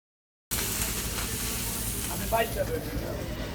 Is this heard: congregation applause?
no